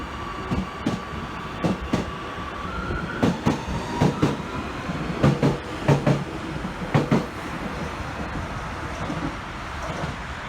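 An Amsterdam metro train on line 50 rolls along at Zuid station with a steady rumble, rhythmic clacks and sharp thuds, while a faint high tone rises briefly; no one speaks.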